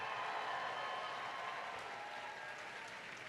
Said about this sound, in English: Cheer a little bit louder.